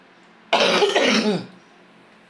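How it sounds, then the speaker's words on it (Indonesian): One harsh, raspy cough lasting about a second from a person with a cough of three days, close and loud, followed by quiet. "Aku batuk teman-teman udah 3 hari"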